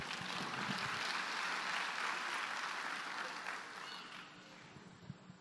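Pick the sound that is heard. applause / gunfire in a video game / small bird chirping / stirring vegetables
applause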